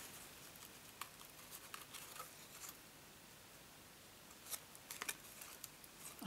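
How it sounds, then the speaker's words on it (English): Scissors snip ribbon at a craft table during iris-folding card making, a few faint, sharp cuts scattered over a quiet room hiss with no voices. "I think I'm going to try and snip that with a pair of scissors."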